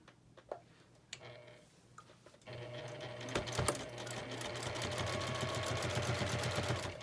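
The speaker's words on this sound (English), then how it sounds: "then we'll just top stitch around the whole" A few quiet clicks and handling noises come first, then a sewing machine starts up about two seconds in and runs steadily as it top stitches around the edge of a fabric needle book.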